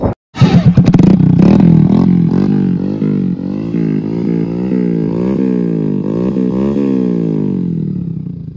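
A motorcycle fitted with a new aftermarket exhaust revs hard and close, a steady throaty roar rising and falling in repeated throttle blips for several seconds before easing off, with no talking.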